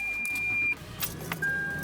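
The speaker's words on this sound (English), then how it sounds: "The car just started." Toyota 4Runner engine cranking and catching after a jump from a power bank jump starter, a short burst of starter noise settling into a steady idle rumble, heard close up with no talking.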